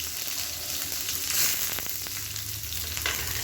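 Finely chopped small shallots frying in oil with mustard seeds and curry leaves for a kara chutney, a loud continuous sizzle with a brief sharp crackle and occasional stirring scrapes.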